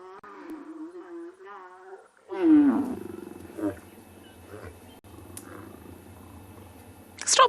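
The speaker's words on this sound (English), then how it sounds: "Stop snarling at her, Mohawk." A hyena snarls and growls at its mate near a den on a morning safari, with a loud rough burst partway through and another short growl at the end, close by.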